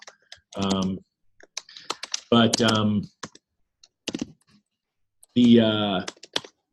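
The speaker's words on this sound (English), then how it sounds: "You think I'm typing this out" Scattered clicks of typing on a computer keyboard fall in the pauses between stretches of a person talking, light and close.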